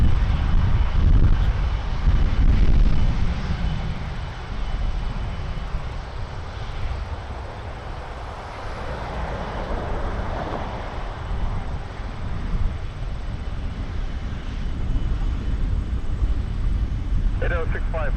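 An ITA Airways Airbus A330 jet airliner at Toronto Pearson Airport roars steadily from start to finish, its engine rumble swelling and easing a little over time, with a voice talking faintly underneath.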